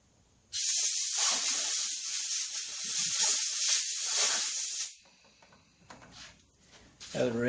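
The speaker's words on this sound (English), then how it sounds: "Let me blow the garbage off of it though before I stick it in there." Compressed air blasting debris off a homemade copper wire tool while cleaning the carburetor of a 1959 Mitsubishi Silver Pigeon scooter: a loud, steady hiss lasting about four seconds, then quieter shop noise.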